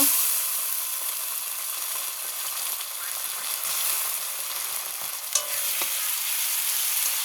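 A ground paste of chilli, ginger and cumin fries steadily in a pan for a Bengali koi fish dish, giving a continuous close sizzle with a faint stir or clink near the end.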